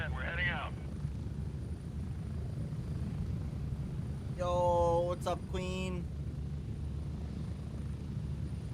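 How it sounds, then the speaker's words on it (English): A military helicopter in the video game Gray Zone Warfare produces a steady low rotor and engine rumble throughout, with a voice speaking briefly over it. "2 minutes on the chopper"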